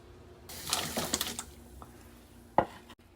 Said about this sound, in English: Let's go ahead and add these into the boiling water.